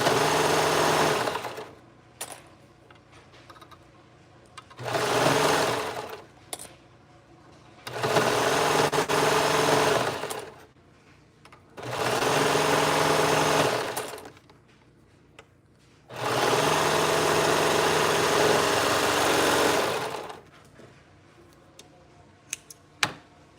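Sewing machine stitching garment pieces together in bursts, five loud runs of several seconds each separated by short pauses, close and alone.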